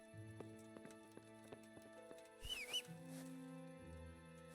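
Horse hooves clip-clop in a video game, a rhythmic series of light hoof beats alongside layered in-game tones, with a short whinny-like squeal midway.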